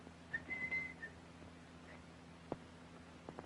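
Two short whistled notes from a person, a brief one then a longer sustained tone, set in a quiet 1944 mystery-film scene with faint hum and a couple of sharp knocks afterward.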